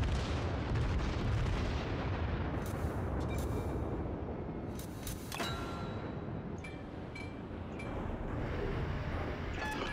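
Heavy main guns of the battleship Fuso firing in World of Warships, a few deep booming blasts within a dense, rumbling roar of continuous battle noise, loud and close.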